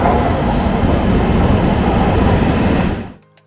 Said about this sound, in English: I quickly moved across to platform 18 to catch my next train, which is the E7 series.